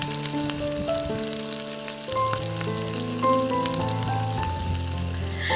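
Pieces of large river pangas fish are turned and fried in a pan, a continuous soft sizzle with occasional stirring clatter heard beneath steady background music, with no voices.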